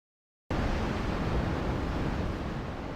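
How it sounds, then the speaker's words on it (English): A roaring river of lava from Kīlauea's eruption rushes over a former neighborhood, its dense, steady, rumbling hiss bursting in abruptly after a moment of silence and continuing without a break. "this roaring river of lava is running over what used to be a neighborhood"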